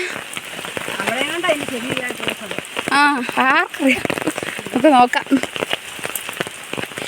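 Steady rain patters on a surface throughout, a constant hiss beneath a voice speaking intermittently close by.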